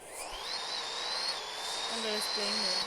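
Airplane engine in a car-simulator video game: a faint, steady jet-like roar with a high whine that slowly rises in pitch, heard alone.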